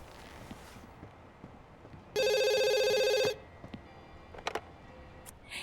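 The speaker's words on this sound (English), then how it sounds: "doesn't have a moment's time to process the news before the phone starts to ring" A telephone rings in the life-simulation game The Sims 2, a single bright electronic trill lasting about a second, loud over a quiet room with faint clicks and ticks around it.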